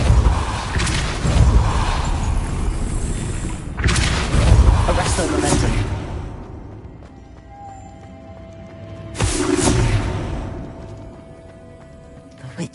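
Depulso spell cast in Hogwarts Legacy, three heavy whooshing blasts with rumbling tails, loud and close, the last followed by a quieter fading hum.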